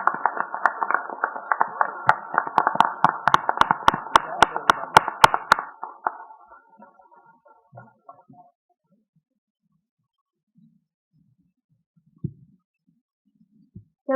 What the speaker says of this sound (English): Let's give our panelists one more round of applause.